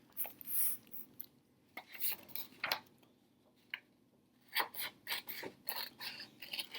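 Scissors snip through paper to cut out craft pieces, a series of soft, close clicks and crisp cuts in irregular bursts with a few quiet words in between.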